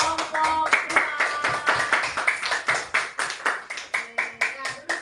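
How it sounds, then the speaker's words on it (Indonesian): Group of children clapping in rhythmic bursts during a classroom lesson after a fruit-group activity, close and fairly loud, with a few voices and chatter mixed in. "Kita tepuk tangan buat kelompok buah."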